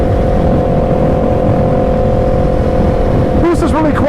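A stock-exhaust Suzuki Hayabusa motorcycle engine holds a steady, loud, close drone that changes pitch and swells near the end.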